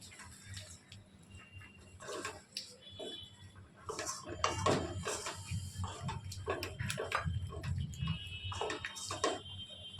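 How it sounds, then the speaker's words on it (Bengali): A spoon scrapes and clinks against a pot as yogurt is stirred into country (deshi) chicken over a low flame, with irregular clattering strokes that grow louder and busier midway. "দইটাকেও ভালোভাবে মিশিয়ে নিচ্ছি।"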